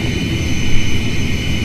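An ATR72-500 turboprop climbs steeply in the Prepar3D flight simulator, its engines giving a steady, loud drone with a sustained whine layered above a rumbling low end throughout.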